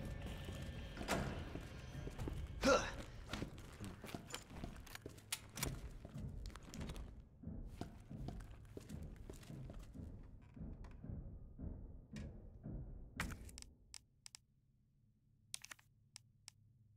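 Heavy, slow footsteps of the big guy in Resident Evil 2 thud through a quiet records room area, a run of dull impacts and clunks that fade to near silence at the end.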